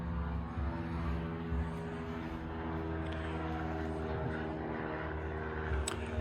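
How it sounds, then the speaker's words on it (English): A steady, distant drone of airplanes taking off from a nearby airport and passing overhead, faint and continuous with no talking. "It seems like the airport above us is pretty busy today with planes taking off."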